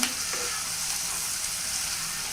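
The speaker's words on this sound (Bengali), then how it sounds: "তো হচ্ছে একটু হালকা করে বেজে নিব" Sliced bamboo shoots fry lightly in a pan for a bamboo shoot curry with shrimp, giving a steady, even sizzle with a brief stir at the start and no talking.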